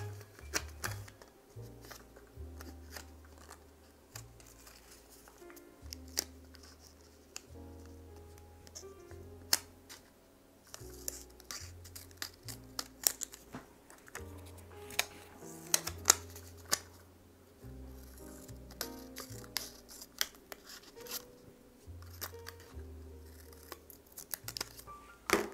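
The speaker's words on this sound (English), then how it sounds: "I'm gonna grab this box here and I'm gonna cut it" Scissors cut through a cardboard box at home: crisp snipping and crunching in irregular bursts with short pauses, close and fairly quiet, while a low soft melodic background plays beneath.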